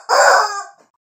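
A rooster crows once, close and clear, in a single short cock-a-doodle-doo lasting under a second with nothing else audible around it.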